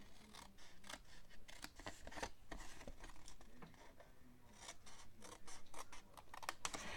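Scissors cutting the corners off a piece of paper, a series of quiet, crisp snips and slicing sounds repeating irregularly, close up with faint paper rustling between cuts.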